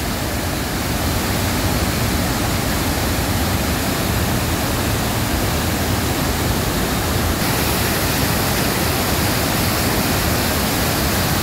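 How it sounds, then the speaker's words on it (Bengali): Lodh Falls in Jharkhand thundering in monsoon flood, a steady, dense roar of heavy falling water that fills the air without pause, close and loud throughout. "বর্ষাকাল, তাই এত জলের জোর, এত কুলকুল শব্দ"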